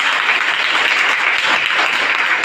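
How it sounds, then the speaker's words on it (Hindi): Audience applause at an RCM business gathering, a dense, steady burst of many hands clapping together that stays loud and even for the whole stretch. "एक बार ताली जबरदस्त वाली बजा दीजिए।"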